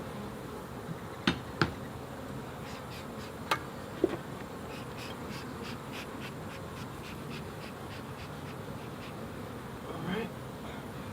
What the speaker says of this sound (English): And you can hear them buzzing around your ears.